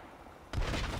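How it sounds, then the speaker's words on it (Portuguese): A tactical nuclear strike detonates in StarCraft 2, a sudden heavy boom that cuts in after a quiet moment and holds as a loud, dense rumble to the end. "uma bomba nuclear tática"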